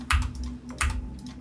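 Computer keyboard typing in two quick bursts of clacking keystrokes, close and crisp, with a short pause between them and a faint low hum underneath.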